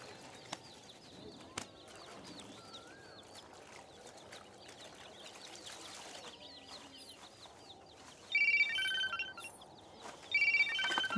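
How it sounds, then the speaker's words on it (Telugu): An electronic phone ringtone trills in two short bursts near the end, over a background of rooster crows and birds clucking outdoors. "రే ఫోన్ వస్తుంది వినపడ్డలా?"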